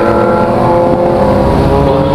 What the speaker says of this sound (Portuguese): 2018 a motoca, mano.